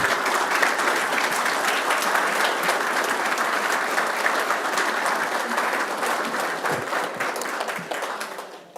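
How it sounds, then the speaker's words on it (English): A council meeting crowd gives a sustained round of applause, dense steady clapping that fills the room for several seconds before tapering off at the end. "Let's give them a round of applause."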